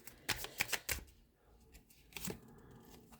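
Tarot cards are shuffled and flipped, giving a quick burst of crisp papery snaps and riffles, then a pause and a softer slap of a card being drawn, close and fairly quiet.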